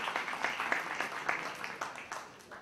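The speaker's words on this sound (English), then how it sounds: "since I got the applause" Audience applause closing a panel discussion on Europe, a thin scattering of hand claps from a small crowd, fairly faint and uneven, tapering off toward the end.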